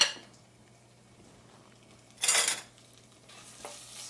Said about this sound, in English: Saute it for a little while.